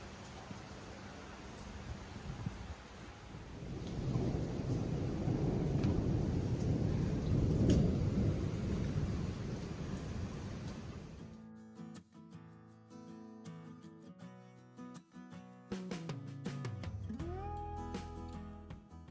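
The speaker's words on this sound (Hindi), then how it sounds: "कल रात को बहुत ज़्यादा तूफ़ान आया, तूफ़ान बारिश" Heavy rain pours through a night thunderstorm with a deep rumble of thunder swelling in the middle, until the storm cuts off abruptly to quiet with faint tonal sounds.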